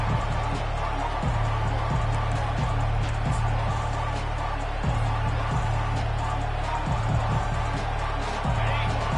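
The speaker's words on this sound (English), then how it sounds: "This crowd, full throat, splitting the eardrums and letting them know it's going to be a long day." A college football stadium crowd at a game against Mississippi State roars at full volume, a dense continuous wall of cheering with steady low thumping beneath, loud and unbroken throughout.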